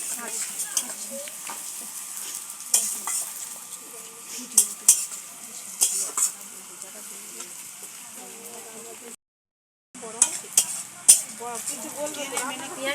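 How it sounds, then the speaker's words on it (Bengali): Onions frying in a pan for egg biryani keep up a soft sizzle under repeated clinks and scrapes of a spoon stirring against metal, with someone talking intermittently and one brief silent gap. "পেঁয়াজ ভাজা হয়ে গেছে,"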